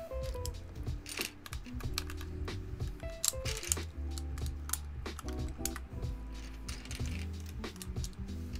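Keycaps clack and snap onto a mechanical keyboard in irregular, close plastic clicks and taps, with small pauses and occasional rattles as each cap is pressed into place.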